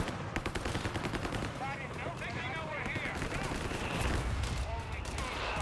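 Battle sounds from Company of Heroes 3 during a 1v1 match, with dense gunfire bursts and rolling artillery barrages thudding steadily throughout and a commentator talking over the din.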